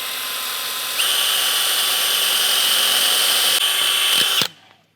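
Power drill boring out holes in a metal bracket while fitting a bar onto a Toyota 100 Series Land Cruiser, a loud continuous whine that rises in pitch after a second, holds steady, then cuts off abruptly near the end.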